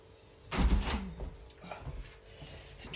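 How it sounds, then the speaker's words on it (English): A back door at home is pushed shut, a loud close thud and wooden knock followed by softer rattling and settling sounds, nearby and without talk. "I'm just gonna shut the back door."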